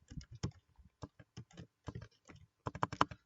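Computer keyboard typing, a quick irregular run of crisp close keystrokes with short pauses and a denser flurry at the end, no voices.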